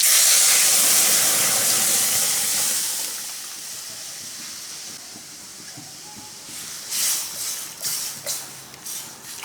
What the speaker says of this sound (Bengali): সরিষা ফুটে আসছে, এই পর্যায়ে আমি দিয়ে দেবো ডাল।